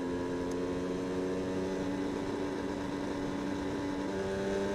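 Steady drone of a motorcycle engine cruising along with its throttle stuck open, an even, unchanging hum with road and wind noise, moderately quiet and without talk.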